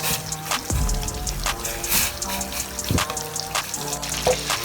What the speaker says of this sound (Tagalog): Now we're going to put the potato and carrots and boil it.